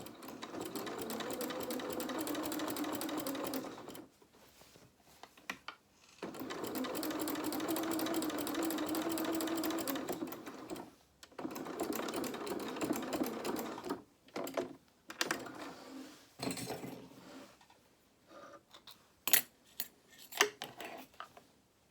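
A domestic sewing machine stitches dungarees for a small toy rabbit, running in long steady bursts with pauses between seams, then shorter stop-start runs near the end.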